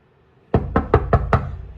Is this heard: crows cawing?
no